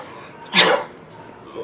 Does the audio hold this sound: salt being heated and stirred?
no